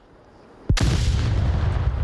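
A grenade goes off in a competitive shooter match, one sudden loud blast after quiet ambience, followed by a heavy rumbling tail.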